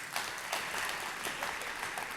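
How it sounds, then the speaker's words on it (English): A church congregation claps in a large room, a faint, even patter of many hands heard from a distance and sustained throughout. "yes, we can clap for that."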